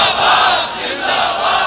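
A large crowd at a religious gathering chants slogans in unison, a loud, close roar of many voices that swells and dips in waves.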